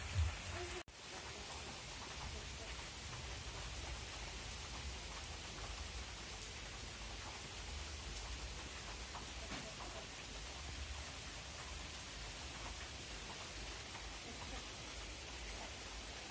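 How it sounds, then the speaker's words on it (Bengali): Heavy rain pouring down in a village, a dense unbroken roar of falling water that stays steady throughout, preceded by a brief sharp knock at the start. "বৃষ্টি হচ্ছে একদম, চারপাশ সাদা হয়ে বৃষ্টি নামতেছে।"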